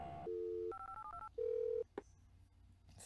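Telephone dialing in the Where in the USA is Carmen Sandiego video game: a run of clean electronic tones, some long and some short, then a brief click, with no voices.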